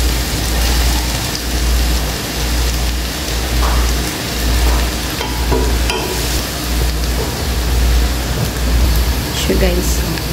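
Garlic dropped into smoking hot oil in a pan, a steady loud sizzle and crackle with occasional stirring scrapes, while a person talks now and then.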